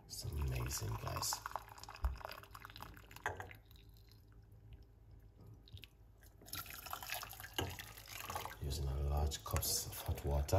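Hot water pours into cups in a kitchen, trickling and dripping in bursts around a quieter middle stretch, while people talk over it.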